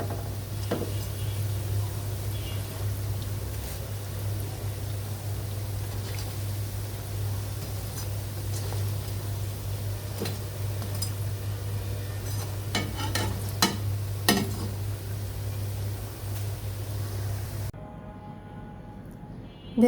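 Lentil tikiya fry in hot oil with a soft continuous sizzle over a low steady hum, punctuated by a few sharp clicks and taps of a utensil before the sound cuts off near the end.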